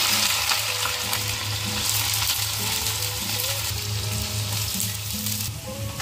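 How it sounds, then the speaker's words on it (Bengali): Onions frying in hot white oil in a heated kadai on high flame for chicken biryani, a loud, steady, close sizzle with occasional stirring scrapes and no voices. "পেঁয়াজগুলো ভেজে নেব।"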